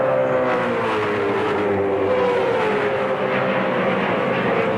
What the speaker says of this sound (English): You hear the gentle progression of the throttle there in 3rd gear coming off turn 9